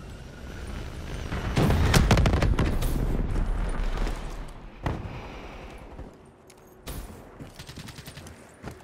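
Hellstorm missile strike in Call of Duty Black Ops III on the Nuk3Town map: a dense, loud barrage of explosive bursts swells and rumbles for a few seconds, then fades into scattered sharp blasts and distant gunfire.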